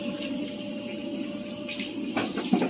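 Tap water runs steadily while cups are rinsed out, a continuous close splashing rush with a few brighter splatters near the end and no voices.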